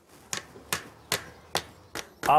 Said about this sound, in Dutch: Ik heb hier een spijker en daar gaan we op slaan